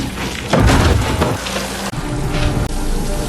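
Heavy rain pours down at night, a dense, steady hiss and patter close by with a low rumbling swell partway through, continuous and loud with no voices.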